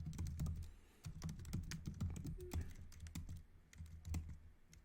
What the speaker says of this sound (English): Let me start typing, and then I will try to understand what it's actually doing.